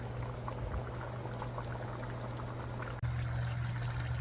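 Water pours steadily over the first layer of rice in a pot of Fijian-style chicken palau, a soft, even trickle under a low hum that continues without pause and stays fairly quiet throughout.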